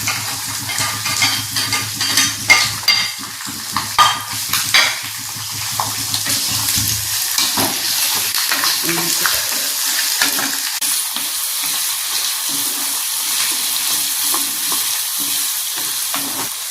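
Green chilli, ginger and garlic frying in hot oil for a fish pickle, a steady close sizzle with stirring and scraping clatter at the start, no talk.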